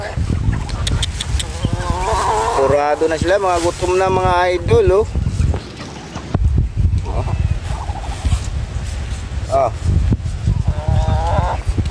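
Chickens and ducks cluck and gobble close by while feeding on rice as people talk over them, with rustling and scattered pecking noises in a busy farmyard.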